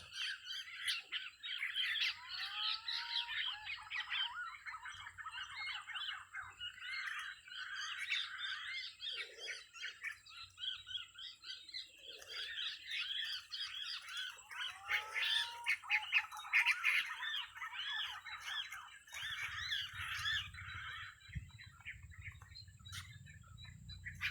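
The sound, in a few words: curucuk birds calling near a catching net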